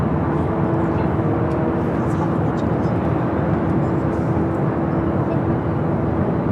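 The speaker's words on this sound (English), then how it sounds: "It's an A320." A United Airlines Airbus A320 arriving from SFO gives a steady, loud jet roar with a sustained engine drone throughout, and a voice talks over it.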